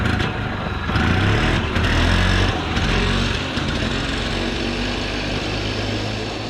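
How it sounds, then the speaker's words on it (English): An engine cranks over and over without catching, a steady churning drone held at close range with no voices. "the engine's turning over, the battery's fine"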